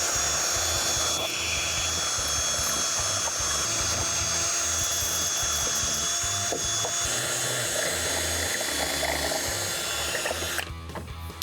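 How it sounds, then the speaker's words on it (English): Flap wheel spun at high speed in a handheld drill, grinding plastic nubs on a 2007-2018 Jeep Wrangler JK headlight housing; a steady, loud whirring grind runs continuously with slight load changes, ending abruptly near the close. "I've just got a flap wheel here in a drill on high speed."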